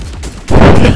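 Ranger rifle gunfire in Fortnite: a loud, dense burst of rapid shots erupts about halfway through and continues to the end, following a quieter stretch of game noise.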